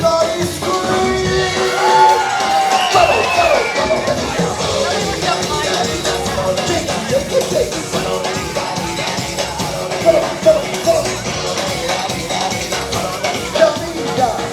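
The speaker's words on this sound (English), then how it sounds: "Everybody scream!" Crowd at a live show in Disney's Animal Kingdom yelling, screaming and whooping together, a loud sustained roar of many voices with shouted peaks.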